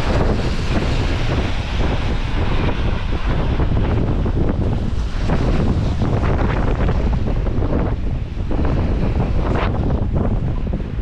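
Strong wind buffets the microphone in Invercargill, a dense, continuous roar of rumbling gusts with no letup and no voices.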